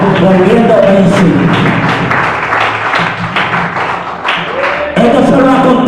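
A church congregation claps in loud, irregular bursts of applause that fade and swell, with a preacher's voice over parts of it.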